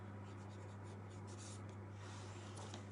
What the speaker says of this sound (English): I'm going to write money, and I'm going to write it at the bottom